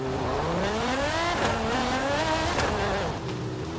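Lamborghini tires skidding in the Forza Horizon 5 racing game, a loud continuous squeal over a revving engine whose pitch sweeps up and down for several seconds.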